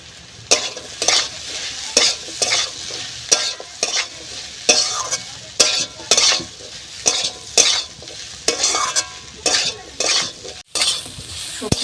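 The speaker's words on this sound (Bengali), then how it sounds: "সবজিগুলো ভালোভাবে মশলা দিয়ে কষানো হয়ে গেছে" Vegetables with ground cumin and coriander sauté in a pan, steady sizzling frying broken by regular rhythmic scrapes and stirs of a spoon against the pan, loud and close with no talking.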